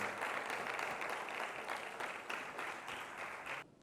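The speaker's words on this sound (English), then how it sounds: "With a resounding round of applause, let us invite Mr. Kwesi Kofi" A conference audience gives a round of applause to invite a guest speaker, a company CEO, to the stage; the even clapping is moderately quiet and cuts off abruptly near the end.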